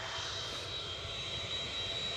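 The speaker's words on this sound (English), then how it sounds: "the sound you can hear is the RB211s picking up." Rolls-Royce RB211 engines on a plane departing Edinburgh spool up, a loud, steady jet roar with a high whining tone sustained throughout.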